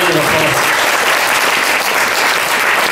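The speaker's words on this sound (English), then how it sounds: "please, another massive round of applause." Loud, dense applause from a large audience, steady and sustained throughout with no pauses.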